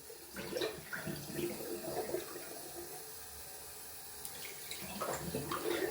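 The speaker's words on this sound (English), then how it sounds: "Just rinsing off a little bit down here on the go." Tap water runs steadily into a sink as a wet shaver rinses his face and razor between passes, a continuous close splashing stream with brief louder gushes near the start and end.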